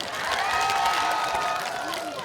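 An audience at a rural township festival claps together in a quick burst, the claps blending with crowd voices and cheers at moderate distance.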